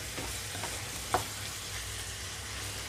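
Amaranth leaves, tomato and chana dal curry being stirred together in a pan, a soft low sizzle with one brief clink of the spoon near the middle.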